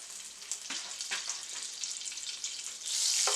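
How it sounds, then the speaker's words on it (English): Three tablespoons of unsalted butter go into hot oil and melt with a dense, steady sizzle, rising into a louder hiss at the end. "So to the oil we're adding 3 tablespoons of unsalted butter"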